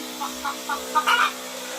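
Soft, repeated hen clucks in short bursts over a steady low hum, with a slightly louder cluck near the end.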